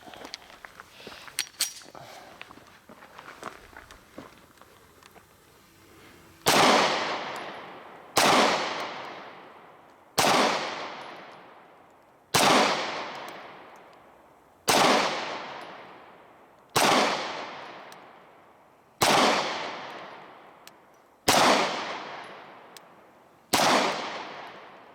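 Smith & Wesson 6904 pistol fired in nine evenly spaced, loud, sharp shots about two seconds apart, each with a decaying ring, after a few seconds of faint handling clatter.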